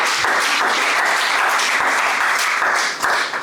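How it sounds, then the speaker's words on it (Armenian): An audience applauding at a church gathering, continuous loud clapping from many hands with no speech over it, dipping briefly near the end. "Եկեք ծափարենք ասում"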